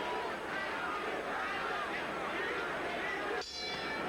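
A boxing ring bell rings out to end round seven, a bright metallic ding cutting through a commentator's voice and constant crowd noise.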